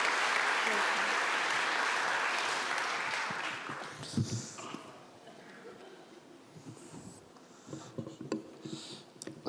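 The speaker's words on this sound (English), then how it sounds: "Round of applause" Audience applause at a EuroPython 2025 conference closing, a strong burst of clapping for a few seconds that fades into scattered claps and murmuring voices.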